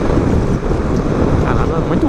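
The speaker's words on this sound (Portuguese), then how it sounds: "Caramba, muito vento, contrário, lateral." Strong headwind and crosswind roar and buffet loudly and steadily across the microphone of a motorcycle riding on the highway at about 80 km/h, with no talking.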